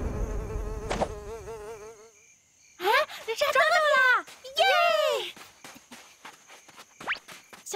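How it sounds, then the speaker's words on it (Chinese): A mosquito buzzes in a Boonie Cubs cartoon, thin whining hum heard between animated character voices, with sharp effects and brief quiet gaps. "熊大别动，有蚊子。"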